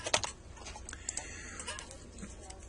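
Quiet keyboard typing, a few scattered key taps near the start then sparse clicks over a low background hiss.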